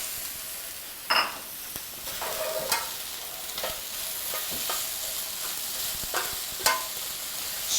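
Veal browning in a pot with crushed garlic and onion, a dense steady sizzle under repeated scraping stirs and a few sharper clanks of a utensil against the pot, close by.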